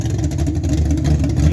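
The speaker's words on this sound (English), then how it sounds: "That's Dad's Nova. That's that solid roller 427." Chevrolet Nova with a solid roller 427 engine, revving as a loud, steady low rumble that holds throughout with slight surges, close by and with no talk over it.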